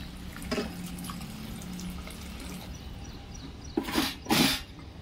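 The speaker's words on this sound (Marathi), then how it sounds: "छान तेल पण सुटलंय त्याला, तर त्यात थोडं गरम पाणी घालते." Hot water poured into hot oil in a pan while making paneer sabzi, heard near the end as two loud, close splashing bursts after several seconds of quiet kitchen background.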